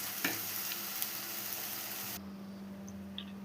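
Masala for a Kerala-style fish curry fries in a pan with a steady broadband sizzle and a few stirring clicks near the start, then drops abruptly to a quieter, duller hiss partway through; no one speaks.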